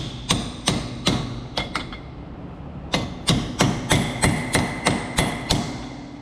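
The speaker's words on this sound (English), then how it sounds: "just start hammering away." Repeated metal hammer blows drive a ball joint press tool during a disc brake conversion on a classic Cadillac Coupe DeVille, a few strikes, a pause, then a steady run of about ten loud, close impacts.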